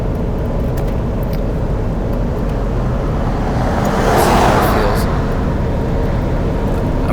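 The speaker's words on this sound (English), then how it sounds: "We're going 70 miles an hour, and the wind noise is really, really minimal." Steady cabin drone of a Hellwig Operator F-350 truck cruising at 70 mph, a constant low road rumble with faint wind hiss and a slight swell midway.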